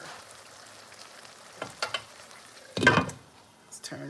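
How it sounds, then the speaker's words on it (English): Jamaican curry chicken with vegetables sizzles and is stirred in a pot, a steady low frying hiss broken by a few scraping stir bursts and one louder rush near the end. "Let's turn this up a little and let it get to frying."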